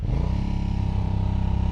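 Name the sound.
Aprilia Dorsoduro 750 motorcycle engine pulling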